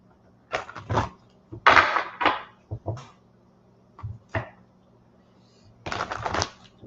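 A deck of psychic reading cards is shuffled by hand, bursts of crisp riffling and flicking paper in several separate clusters with quiet gaps between, close and fairly soft.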